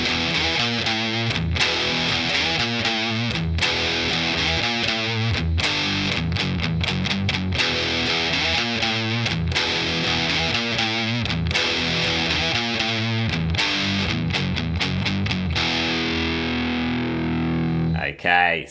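A heavily distorted electric guitar plays the final, full-force intro riff of a song, with loud, rhythmic chugging power chords and sharp stops repeating steadily, ending with a brief pause and a last strum.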